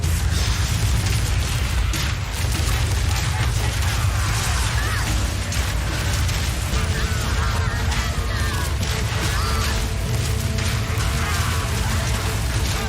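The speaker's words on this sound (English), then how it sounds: "The gate mechanism has been destroyed." A gate mechanism being destroyed in the video game Path of Exile 2, amid dense combat with loud booms, bursts, crashes and mechanical clatter throughout, and a voice in the mix.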